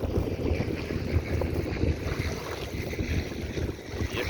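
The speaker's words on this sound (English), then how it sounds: "the wind is a little worse out here" Wind gusts across open water around a canoe, a constant close roar of buffeting with low rumble and faint lapping beneath, no voices.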